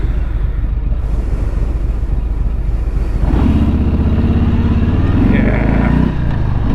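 A 2020 Harley-Davidson Street Bob cruiser is ridden on the road, its loud, continuous engine drone swelling and shifting pitch midway as the throttle changes, with wind rushing around it.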